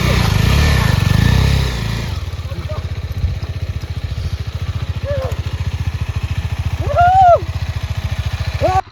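Motorcycle engine on a hill road between Belur and Kalasa, its low, throbbing pulse settling into a steady, even chug after a louder rush, with voices calling out faintly over it.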